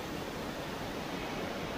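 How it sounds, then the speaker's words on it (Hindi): A hidden waterfall near Rishikesh pours in a steady, dense rush of falling water, close and unbroken, with no voices. "ये रहा झरना जो मैंने उस दिन राफ्टिंग करते टाइम देखा था।"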